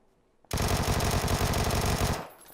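A long, rapid burst of Vector SMG fire in PUBG, dense and loud, lasting under two seconds before cutting off, with no voices.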